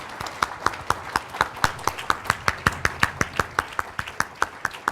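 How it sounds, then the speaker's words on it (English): An audience at an evening celebration honoring seven women claps in steady unison, sharp even claps falling about four per second, close and loud with no talk. "I invite you to give another round of applause to all 7 of our Wonder Women."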